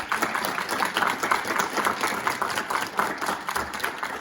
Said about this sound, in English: Can we give our panelists a quick round of applause real quick?